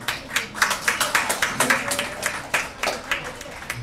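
An audience claps in quick, fairly even strokes at an honouring ceremony for founding members and staff of a BURO Bangladesh branch in Pathrail; close, moderately loud, rhythmic applause with no talking.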